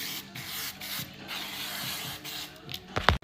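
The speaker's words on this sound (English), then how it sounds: "Now I just need to hairspray it." Hairspray sprayed onto hair while getting ready: a steady faint hiss runs through, then a short, louder burst of spray near the end.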